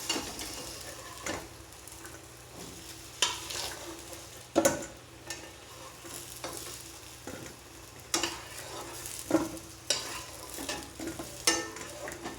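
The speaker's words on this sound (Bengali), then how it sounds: "দেখুন আমার ভাজা হয়ে গেছে, তাই আমি আলুগুলোকে তুলে নিচ্ছি" Fried potatoes being stirred and lifted out of hot oil for Mughlai aloo dum: a soft constant sizzle broken by repeated scraping and clinking strokes of a spoon in the pan, close up, with no talking.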